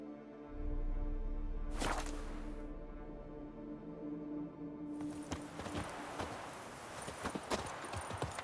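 Roach, the horse in The Witcher 3: Blood and Wine, clops along with a quick swish at the start, then a run of crisp, close hoofbeats on hard ground that grows busier toward the end.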